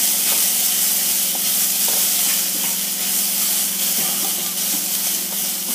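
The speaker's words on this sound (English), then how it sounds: "I'll add the curry leaves now" Curry leaves drop into hot oil and crackle loudly in a dense, continuous sizzle. It stays close and even throughout, with small spatters and no talking.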